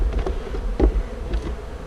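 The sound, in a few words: honeybees buzzing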